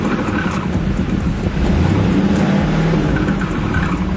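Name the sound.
older car engine revving with exhaust leak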